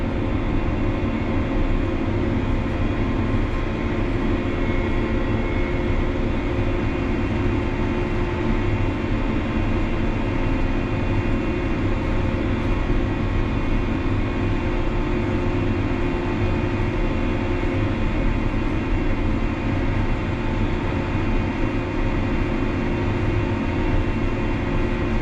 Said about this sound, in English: Row-Tineweeding corn.